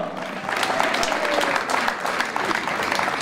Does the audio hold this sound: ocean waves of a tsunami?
no